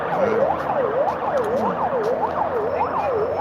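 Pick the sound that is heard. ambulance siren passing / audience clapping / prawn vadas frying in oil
ambulance siren passing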